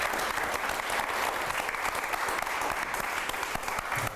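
An audience claps after an architecture debate, dense steady applause from a room full of people, sustained evenly throughout without pauses.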